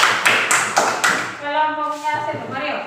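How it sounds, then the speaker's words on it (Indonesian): A few sharp claps from a classroom group, several distinct hand strikes early on, then speech-like voices over a lighter patter of clapping. "Tepuk tangan buat"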